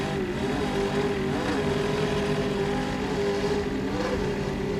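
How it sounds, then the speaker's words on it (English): A 40-foot Skater race powerboat with twin 800 horsepower Sterling Performance engines in a Supercat class race at Key West, droning steadily with a loud, even engine roar that rises slightly in pitch a couple of times. "It's a 40-foot skater powered by two 800 horsepower Sterling Performance engines."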